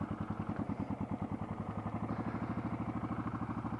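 A motorcycle engine thumps in a steady, rapid rhythm, close and continuous, with no one talking.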